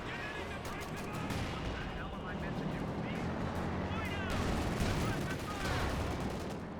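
Dense machine gun bursts and thudding explosions in a Company of Heroes 2 battle, including a frag grenade thrown onto an MG position, running steadily under continuous commentary talk.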